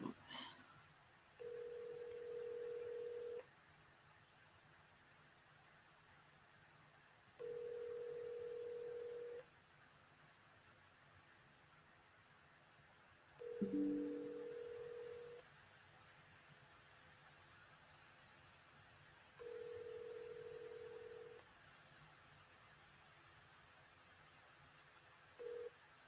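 A telephone line gives off repeated steady tones, each lasting about two seconds and separated by silent gaps, with one short break in the middle. The sound is faint and thin, and no talk is heard.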